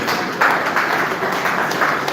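Audience at a community security forum on drug abuse and cultism gives a round of applause, a steady wash of many hands clapping at moderate loudness with no speech over it.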